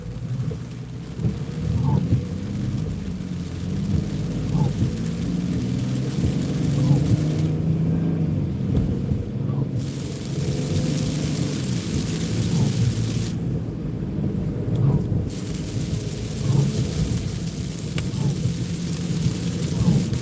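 Heavy rain patters steadily on a car windshield during a night drive, with low rumbling and periodic swishes like wipers passing, continuous and close.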